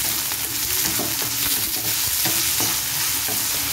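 Large ripe tomatoes and onion sauté with salt in a pan while cooking a Tamil chow chow kootu, giving a steady, close sizzle with repeated scraping stir strokes and no talking.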